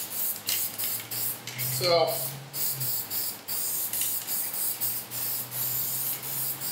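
Aerosol paint sprays onto car exhaust headers in short repeated hissing bursts, close to the microphone, while a voice talks briefly.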